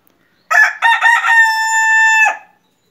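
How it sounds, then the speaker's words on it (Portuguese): A Polish breed rooster crows once, loud and close: a short broken opening followed by a long, steady, drawn-out note that cuts off cleanly, with no talking. "Hoje eu vou mostrar para você aqui um galo polonês cantando."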